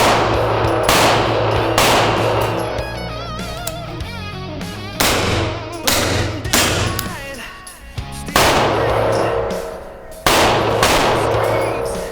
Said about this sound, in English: Let's go out, run some rounds through, and see which one comes out on top.